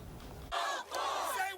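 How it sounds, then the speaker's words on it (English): A protest crowd in Minneapolis erupts into a loud, sustained cheer, with shouts and whoops rising over the din after a brief duller stretch of murmuring at the start. "The crowd let out a cheer"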